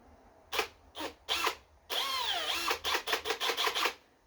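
Power drill boring a hole into a Chevy engine block, a few short bursts followed by a longer whining run, then a rapid series of quick stuttering pulses, loud and close with no voices.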